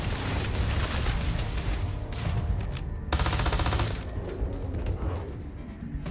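Sustained rapid gunfire in the space shooter Starfield, dense automatic bursts loud and close for about six seconds, with a short dip in the middle before the shooting resumes.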